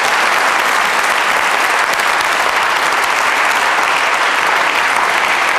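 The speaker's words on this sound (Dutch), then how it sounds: "Geef ze een applaus." A studio audience applauds the guests on a Dutch talk show, steady dense clapping throughout at close range.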